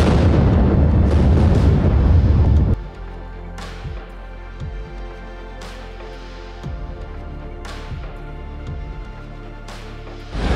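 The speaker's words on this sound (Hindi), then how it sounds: "हमारे सामने ही सुरंग को आगे बढ़ाने के लिए ब्लास्ट किया गया।" An explosive blast for railway tunnel construction on the Sivok–Rangpo line erupts as a loud, sustained roaring boom that cuts off abruptly after a few seconds, followed by quieter echoing thuds and rumbles.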